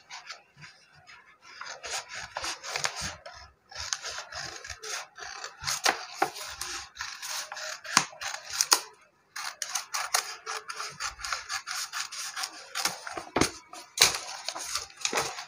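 Scissors cut along a chalk marking on blouse fabric on a tailoring table, giving dense, continuous rasping snips with short pauses, close and fairly loud, with no talking.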